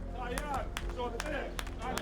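Protesters applaud outdoors at a roadside protest, with sharp irregular claps standing out over a steady low rumble while people talk in the background.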